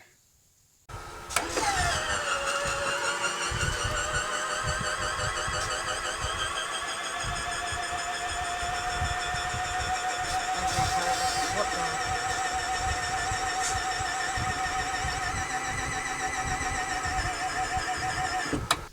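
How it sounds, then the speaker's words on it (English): An electric linear actuator on a school bus conversion pushes rooftop solar panels up into a tilted position, a steady close motor whine starting abruptly after a short silence and holding for the whole span. "it has a linear actuator that pushes it up"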